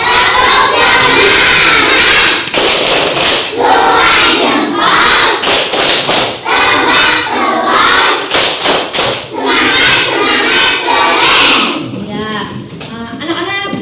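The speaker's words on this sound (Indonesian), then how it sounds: "Ya, tepuk semangat dulu." Classroom of schoolchildren performing a rhythmic tepuk semangat spirit clap chant, loud and energetic with group shouting and thumping claps throughout, ending with a brief quieter tail.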